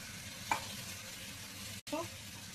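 Tomatoes with ginger and cumin paste fry in a pan, giving a soft continuous sizzle with a couple of brief spoon scrapes as they are stirred, faint and close.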